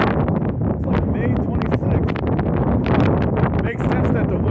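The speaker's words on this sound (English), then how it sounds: "Makes sense that the wind is blowing so hard though." Strong wind buffets the microphone outdoors on a mountainside in Utah during a cold late-May day, a constant loud rumbling roar with gusty swells throughout and no pauses.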